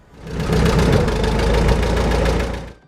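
Minneapolis Moline G Diesel tractor engine running steadily nearby, a loud low rumble with a fast even knock that holds at a constant idle-like pace throughout.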